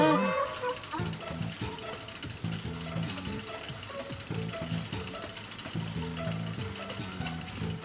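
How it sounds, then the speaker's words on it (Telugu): A cutter machine switching on in an animated cartoon, heard as a rhythmic mechanical ratcheting and gear clatter with repeated clunking pulses, loud and continuous across the clip. "ఈ కటర్ మెషిన్ స్విచ్ ఎక్కడ ఉంటుంది?"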